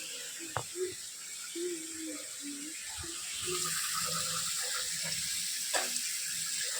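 Water gushes from a tap into a bucket for a bath, a steady close hiss that grows fuller halfway through, with faint murmurs and knocks around it.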